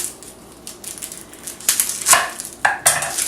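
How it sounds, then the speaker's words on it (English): Knife chopping an onion on a cutting board in a home kitchen, several sharp, close knocks that grow louder in quick irregular strokes over a quiet background. "in the meantime, I'm going to cut up this onion"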